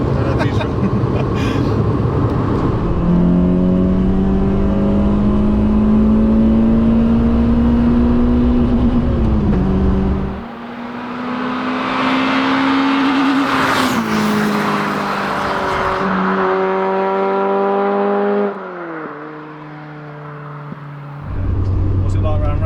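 Citroen AX VTS hot hatch driving hard, its engine climbing through gears in rising harmonic sweeps with shifts and a lift-off pause, loud and close inside the cabin, with people talking over it.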